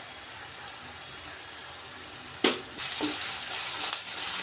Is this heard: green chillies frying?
yes